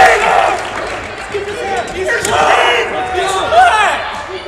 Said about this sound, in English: Friends and family crowd in the nest getting jacked up about the sudden reversal to his back